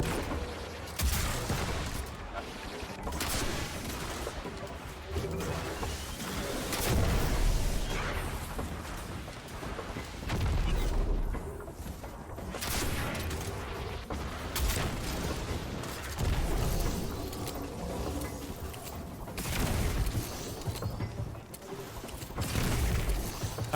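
Rapid bursts of gunfire and booming explosions from a Destiny 2 firefight fill a long stretch, with repeated volleys rising and falling in loudness and no clear pauses.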